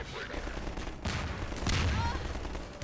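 Video game gunfire pops in a few close bursts with a low booming body, partly overlapping game noise and a faint voice.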